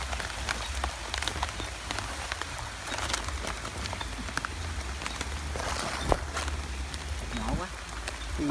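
Steady rain patters on leaves and the ground all around in a forest at night, with faint voices and a few scattered drips and rustles.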